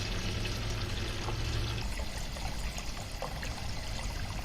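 Water steadily pouring and trickling into a mushroom house watering tank as it fills, a continuous close splashing stream with a low rumble underneath and no talking.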